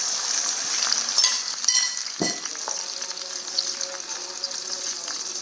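Rohu fish fat frying in oil with ginger and garlic paste, a steady soft sizzle punctuated by a few utensil clinks and stirring sounds.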